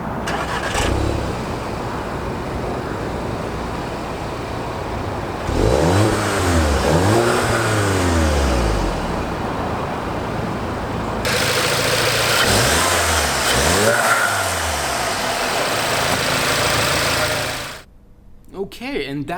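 A 2016 Volkswagen Golf GTI's turbocharged 2.0-liter four-cylinder engine starts, then revs up and down in two loud rising-and-falling sweeps, dropping back to idle between them and cutting off at the end.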